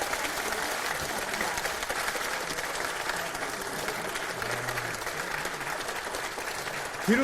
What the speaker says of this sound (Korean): 여러분 모두 박수로